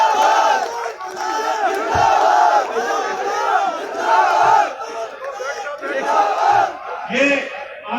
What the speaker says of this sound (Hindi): मलूक नागर 2 हाथ ताली बजाइए दोस्त